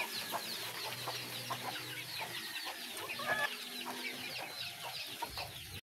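Flock of hens with chicks clucks and chatters while eating feed, a dense layered stream of short clucks and cheeps close by, steady throughout before cutting off abruptly.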